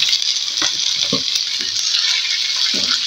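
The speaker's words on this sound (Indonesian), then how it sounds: "Ini bumbunya udah panas, kita masukkan tahunya ya" Tofu dropped into hot seasoning in a pan while stir-frying Chinese cabbage, giving a steady loud sizzle with a few clinks and stirring knocks, close by and without talk.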